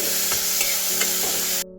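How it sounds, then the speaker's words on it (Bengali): Sliced onions with whole spices frying in hot oil give a steady, close sizzle with a few soft stirring scrapes before the sound cuts off abruptly. "পেঁয়াজটাও বেশ ভালো করে ভেজে নেব"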